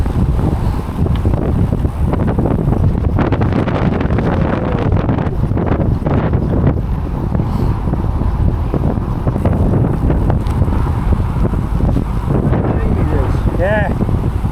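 Strong gusting wind from Storm Floris buffets the microphone in a loud, continuous roar with rustling and broadband rumble, while trees thrash nearby.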